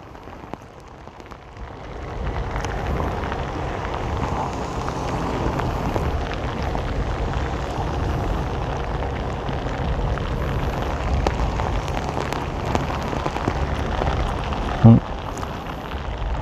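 Steady, loud downpour in Saigon heard from under an overpass, a broad continuous wash of rain that builds after the first couple of seconds, with one brief sharp knock near the end.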